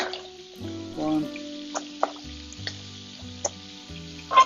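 Lamb with olives sizzling in a pan, a faint, steady frying crackle with a few sharp pops and clinks, heard under louder background music.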